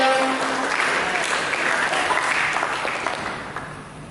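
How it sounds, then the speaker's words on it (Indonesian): A church congregation applauding during a Sunday service sermon: sustained, dense clapping from many hands that fills the room and slowly tapers off toward the end. "Mari kita berikan tepuk tangan yang meriah."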